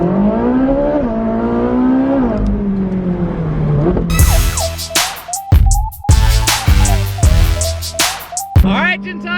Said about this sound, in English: there's not too many cars that sound better than this